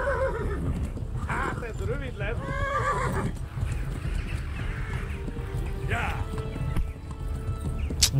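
A horse in the medieval video game Kingdom Come neighs loudly, whinnying twice, over steady galloping hoofbeats and battle noise. Someone talks over the sound.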